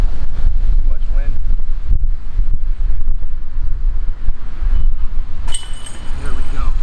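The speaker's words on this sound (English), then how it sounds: "Too much wind." Strong wind buffets the microphone during a disc golf round, a heavy, continuous low roar that swamps everything else, while a voice speaks briefly underneath.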